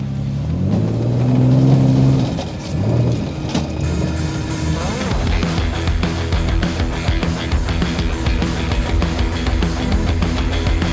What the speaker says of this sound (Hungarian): menjünk nézzük meg egy karikára, hogy hogyan is megy terepen ez a jármű